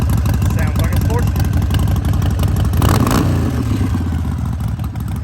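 A 2018 Harley-Davidson Sportster Iron 1200 motorcycle engine runs with a loud, steady low throb throughout, with a brief rev swell midway, under someone talking.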